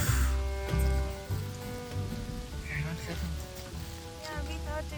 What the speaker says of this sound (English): now It's we are getting down and it's raining all the way